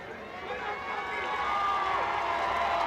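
Football crowd at a high school Bi-District Championship game, Flour Bluff versus McAllen Memorial, cheering in a steady, swelling roar of many voices after an interception, with no distinct talk over it.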